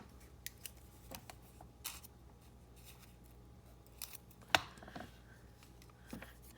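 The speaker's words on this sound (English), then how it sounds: "Use my pinking shears." Pinking shears snipping through paper, a scattered series of crisp close cuts and snips with short pauses between them, quiet overall.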